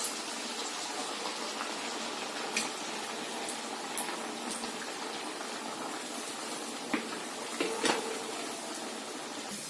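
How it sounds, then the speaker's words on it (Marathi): Sabudana vadas deep-frying in hot oil give a steady, close bubbling sizzle for the whole stretch, with a few faint clinks of a utensil against the pan and no talking. "आता आपण तळूया।"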